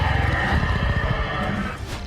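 A movie-style dinosaur roar sound effect: a loud, rough, growling bellow with a throaty, neigh-like rasp, sustained for about two seconds with no break.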